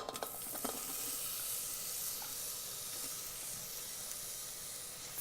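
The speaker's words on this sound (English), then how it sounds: "Once the oil is hot, let's add onion." Onion sizzles steadily in hot oil inside an Instant Pot while cooking shrimp curry, a soft, continuous hiss with a few small crackles near the start and no voices.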